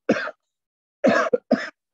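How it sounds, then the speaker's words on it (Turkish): Three sudden dry coughs from one person, the first alone and the last two close together, each a short burst with silence in between, recorded close to a quiet microphone. "Böyle ani öksürüklerim geliyor."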